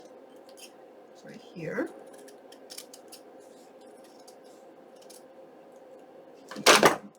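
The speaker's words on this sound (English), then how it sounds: "Let's go ahead and trim this off" Scissors trim fabric for a junk journal, one short crisp snip early on and a louder, sharper cut near the end, close by, with quiet speech in between.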